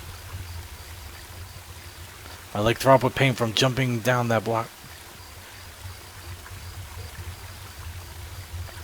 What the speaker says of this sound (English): Water. I hear water.